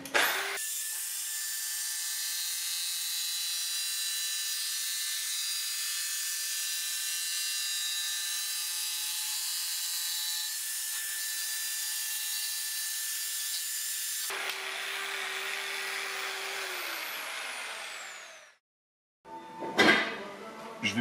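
Power tool cutting through a wooden board for shelving, a loud steady whining drone for about fourteen seconds, then a lower rougher tone as it winds down, a brief silence, and a short clatter at the end.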